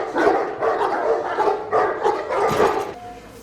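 Dogs bark and snarl aggressively during an attack in a Game of Thrones scene, with repeated loud bursts of barking and growling, ending in a short whimper.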